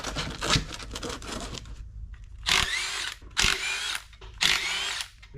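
Power tool driving out the speedometer sensor bolts on a GMT800 truck transmission, short loud whirring bursts after a rattle of work noise, close up with no talk.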